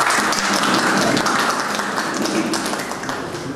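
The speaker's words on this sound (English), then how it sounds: "Please give him a round of applause." An audience claps at a book launch, a steady even patter of many hands that holds at a moderate level for the whole stretch and thins only slightly toward the end.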